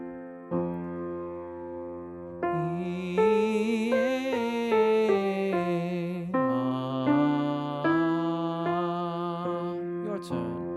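A soprano or mezzo-soprano voice sings a vocal warm-up on changing vowels in F major or D minor, sustained clear notes stepping up and down through an arpeggio and a scale in two connected phrases, alone and steady in volume.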